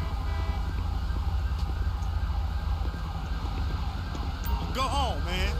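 Ambulance siren wailing on a code 3 emergency run in the video game GTA V, steady and fairly loud under rumbling engine noise, with a rising and falling sweep near the end; a voice speaks over it.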